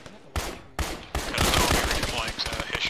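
Heavy gunfire in the military shooter game Arma: a few separate loud shots followed by sustained, dense firing that continues to the end, with speech mixed in.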